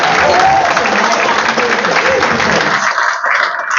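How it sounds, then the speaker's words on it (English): A theatre audience at a Live Aid musical performance bursts into loud, dense applause that holds steady for a few seconds before thinning out near the end. "This is when you applaud."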